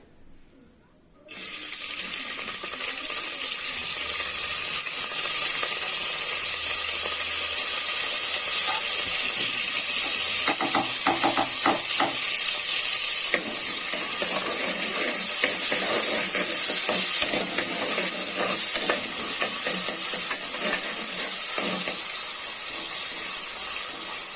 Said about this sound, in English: Once this is hot, let us add the onion.